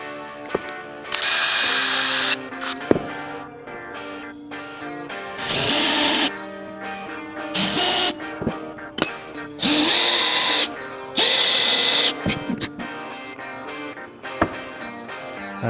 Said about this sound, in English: So I got screws cut down, I'm gonna pre-drill some holes.